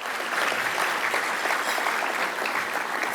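An audience at a chamber of commerce economic forecast event in a resort ballroom applauds steadily, a dense even clapping throughout.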